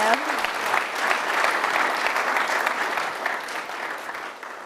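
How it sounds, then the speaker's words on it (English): An audience at a university research presentation event claps in a steady, full round of applause that carries loudly throughout, then thins slightly toward the end. "Everyone give her one more round of applause."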